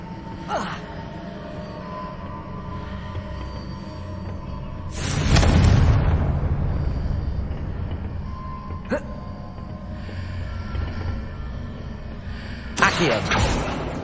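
A Confringo blasting spell detonating in the game Hogwarts Legacy, a sudden booming burst followed by a rumbling tail, with a few sharp cracks around it and a character's voice shouting nearby.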